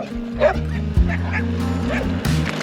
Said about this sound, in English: All bark, no bite.